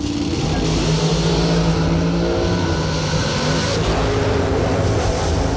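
Drag racing car launching hard off the starting line, a loud, thick engine roar with rapid revving that fills the whole stretch, close and continuous.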